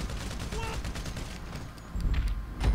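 Gunfire in Grand Theft Auto V during a rampage, rapid sharp shots in quick bursts with a heavier boom near the end, loud against busy game noise.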